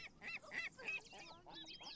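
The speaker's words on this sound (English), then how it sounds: "Here you will not only see them turn their heads but also hear them talking to each other" Seagulls in The Sims 4 call back and forth by the sea, a rapid string of nasal, honking squawks close by and fairly faint, with no voices.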